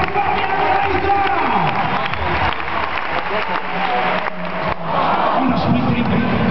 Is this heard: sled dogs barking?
no